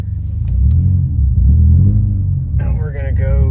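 Steady low engine rumble from a Subaru car with a newly installed engine as it drives on a test run, with a voice talking over it and a brief higher tonal sound near the end.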